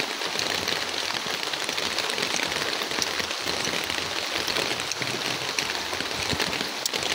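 Steady rain patters densely on surfaces nearby, an even hiss of countless drops continuing without pause.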